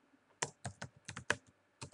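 Typing on a computer keyboard while entering a search into a search engine during SQL Server setup: a quick run of crisp, close keystrokes in short bursts, with no talking.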